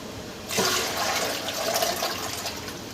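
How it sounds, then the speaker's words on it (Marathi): Running water suddenly gushes on and keeps rushing steadily and fairly loudly, with no voices. "आता मी भांडे घासून घेते"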